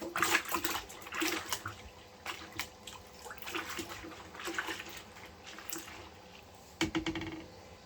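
Water sloshing and splashing in a bucket holding about a gallon of water with a little detergent, while clothes are washed by hand; irregular close splashes and swirls with a few sharper bursts, no voices.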